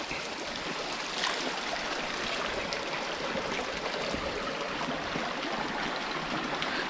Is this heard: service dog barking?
no